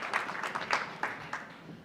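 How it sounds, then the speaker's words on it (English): Audience applause at a charity gala, a dense patter of clapping with a few sharper bursts, moderately loud and steady across the short stretch with no voices over it. "Give her a round of applause."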